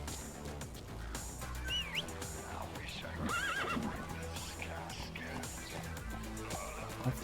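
A horse whinnies and neighs in a video game over a busy, dense mix of game music and effects, with a few hoof clip-clops and people talking throughout.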